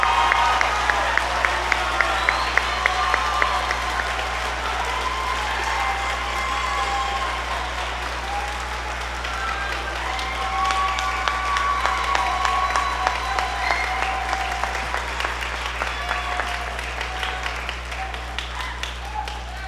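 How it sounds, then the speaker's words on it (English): Spring concert audience claps for beginning and middle school band students, a long, sustained round of applause with scattered cheers over a steady low hum. "Please give these students one big round of applause."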